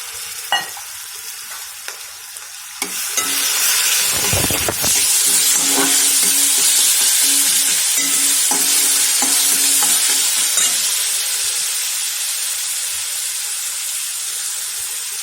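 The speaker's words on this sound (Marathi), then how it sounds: "तो मी तेलामध्ये छान भाजून घेणार आहे" Garlic roasts in oil for a tempering: after a few light clicks, a loud, close, sustained sizzle erupts and keeps hissing steadily, with occasional stirring scrapes and no speech.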